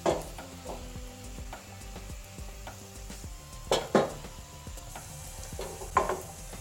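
Rajma kidney bean masala cooks in a pan with a soft, continuous sizzle, broken by several sharp clinks of a spoon against the pan, close and alone.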